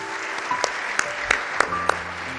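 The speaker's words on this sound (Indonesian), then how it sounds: "Tepuk tangan." Applause rises from a church congregation during a sermon, scattered distinct claps ringing out over a quiet background with faint tonal hum.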